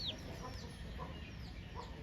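Young chicks, one cockerel and two pullets, cluck softly and intermittently in a quiet pet shop, with a brief high peep at the start and low background noise throughout.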